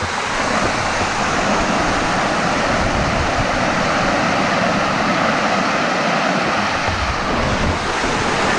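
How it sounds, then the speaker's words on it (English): Waterfall on a shaded forest stream along a nature trail in Loyalsock State Forest, a steady, loud broadband rush of falling water filling the whole clip with no voices. "I found myself another waterfall to work with"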